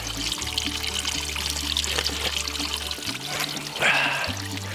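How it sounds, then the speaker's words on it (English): Ozark water pours and trickles steadily nearby, a continuous splashing flow with a low hum underneath and a brief louder gush near the end. "That's real Ozark water right there."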